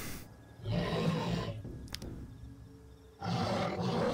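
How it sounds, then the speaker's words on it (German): A bear in the survival video game Rust lets out two deep, rough roars, each about a second long, separated by a quieter gap with a faint click, heard fairly close and with no talking over them. "Hier ist ein Bär."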